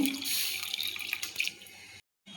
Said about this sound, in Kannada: ಇದು ಬೇಳೆ ನೀರಿತ್ತು, ಸ್ವಲ್ಪ ಹಾಕ್ತೀನಿ.